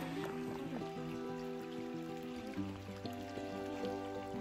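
A creek flows along the Schoolhouse Gap Trail, an old road following the creek bed on an April day: a faint, steady trickle of water runs continuously, quiet and without voices.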